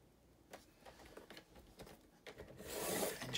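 A paper trimmer slices through cardstock pockets, a series of short scraping rubs followed by a louder, longer rasping cut near the end, close and clear with no talking.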